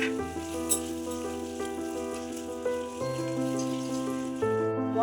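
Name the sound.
frying spice paste with egg and fried potatoes in pan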